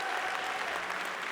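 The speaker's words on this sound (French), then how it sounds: "on peut lui faire aussi un tonnerre d'applaudissements." A crowd claps at a Salers cattle show, a short burst of steady, fairly quiet applause filling the whole moment.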